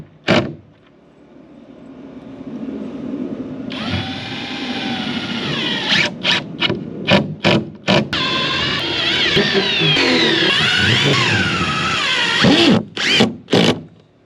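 A cordless drill or driver runs screws into a board on a shed being built, with several high whirring bursts, some long and some short, separated by brief pauses, loud and close.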